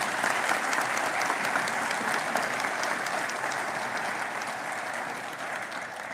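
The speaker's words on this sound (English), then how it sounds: "A lusty round of applause." Graduation ceremony audience gives a sustained round of applause, dense even clapping from a large crowd, heard at a distance and slowly fading.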